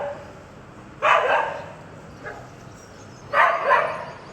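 Several dogs bark at a monkey up above them outdoors in the morning, two sharp bursts of barking about two seconds apart with a fainter yip between, moderately close over quiet background.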